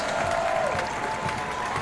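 A crowd shouting and clamoring around a mermaid's tank, a dense wash of many voices and applause-like noise, loud and continuous without a break.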